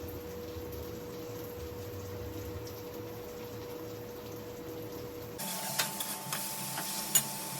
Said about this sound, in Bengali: এবার দিয়ে দিচ্ছি লাল লাল ঝাল ঝাল লঙ্কা গুঁড়ো।